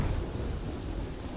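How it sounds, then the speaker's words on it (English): Thunderstorm with steady rain in The Bad Batch, a dense continuous low rumble of thunder under broadband rainfall, fairly quiet and unbroken throughout with no voices. "it's raining."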